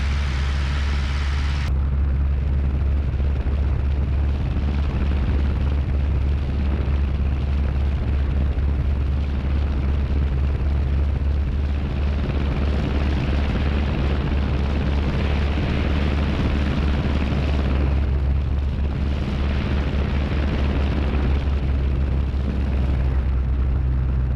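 The engine of a 77-year-old tail-dragger light airplane drones loud and steady in flight, a constant rumbling roar filling the cabin with no voices.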